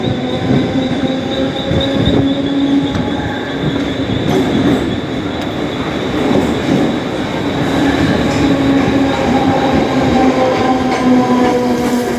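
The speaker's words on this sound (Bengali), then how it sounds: "তা বন্ধুরা ট্রেনটি ছেড়ে দিচ্ছে আমাদের।" A local train pulls out of Mumbai CST station with a loud, continuous rumble of wheels on rails, steady clatter and sustained metallic squeals throughout.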